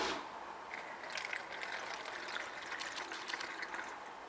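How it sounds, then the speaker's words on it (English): B12 cleaner poured into an engine cylinder of a 2011 Audi Q5 2.0L TFSI EA888 for a piston soak: a steady close liquid trickle with small metallic clicks throughout, no talk. "So I'm just gonna start pouring the B12 inside."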